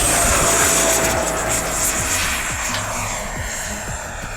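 An RC MiG-29 Fulcrum model with 80mm thrust-vectored electric ducted fans takes off. A loud, steady whooshing whine with a high tone holds close and then eases off slightly as the jet moves away.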